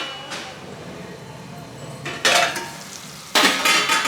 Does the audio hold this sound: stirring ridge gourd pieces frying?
yes